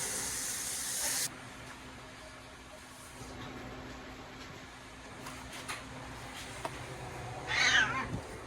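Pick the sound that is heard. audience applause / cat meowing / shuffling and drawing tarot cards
cat meowing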